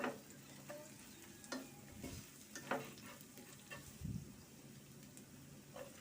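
Oil sizzles in a pan as salt and turmeric are stirred in, with a spatula scraping and knocking against the pan at irregular intervals over a quiet, steady frying hiss.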